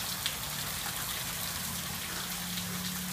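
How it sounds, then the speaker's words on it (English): Rainwater overflowing from roof gutters in heavy rain, a dense, constant rushing splatter of water pouring and hitting the ground nearby, with no pauses. "Can't get over why those gutters are running over from all that rainwater"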